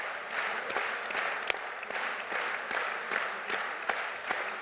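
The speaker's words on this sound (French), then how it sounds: "Ils méritent aussi des applaudissements." Audience applause fills a hall at the 51st Jeunes Agriculteurs congress, a steady wash of many hands clapping with a few sharper claps standing out, sustained and fairly even throughout.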